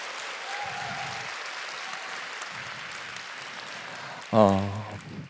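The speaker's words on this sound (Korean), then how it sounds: "감사의 박수 부탁드리겠습니다" An audience at a church leadership training event applauds in thanks after a pastor's lecture; a steady wash of clapping runs throughout, and a brief voice cuts in near the end.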